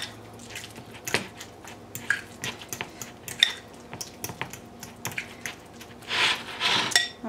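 Lime juice is mixed into mashed avocado for guacamole, with soft squishy stirring and repeated light clinks of a utensil against a bowl, close and fairly quiet, with no talk.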